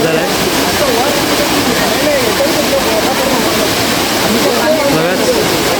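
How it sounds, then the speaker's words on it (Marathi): The Savatkada waterfall in the Konkan region roars loudly and steadily throughout, a dense constant rush with someone talking over it. "हा धबधबा तुम्ही बघायलाच काय एकदम सुंदर नजारा आहे."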